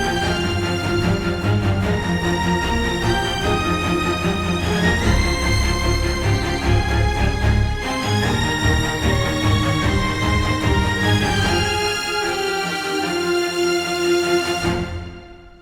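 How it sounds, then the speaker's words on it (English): A full string section from Audio Imperia sample libraries plays together in an epic cinematic style, loud and continuous, with rich sustained chords and moving lines that fade out at the very end. "All the strings together sound like this."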